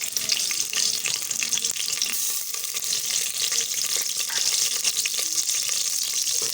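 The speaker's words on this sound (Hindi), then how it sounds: "ये देखें, इस तरीके से इसको फ्राई करेंगे" Onion sizzles in a hot pan, a steady close hiss dotted with sharp crackles and small pops that continues evenly throughout, with no voices over it.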